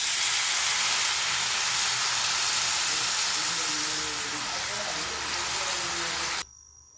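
Washed spinach dropped into moong dal cooking in a pan gives a loud, steady hiss of steam and sizzle that runs unbroken and then cuts off abruptly near the end.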